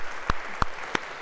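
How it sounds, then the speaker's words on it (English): Three or four isolated hand claps, spaced and fairly close, during a university lecture on memory, sparse rather than a full round of applause. "A round of applause if we could."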